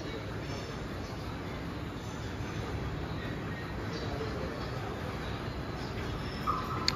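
A Gomoh-bound train pulls into a station in hot weather on the Bankura–Purulia line via Adra, a steady broadband rumble rolling on continuously with faint voices at times.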